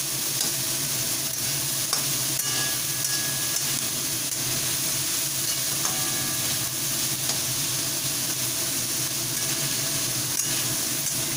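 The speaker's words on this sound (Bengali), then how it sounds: "এবার ভালোভাবে ফ্রাই হতে দেব।" Potatoes fry in a pan with salt, turmeric and spices, a steady close sizzle and hiss running throughout with faint occasional clinks of stirring, no talk.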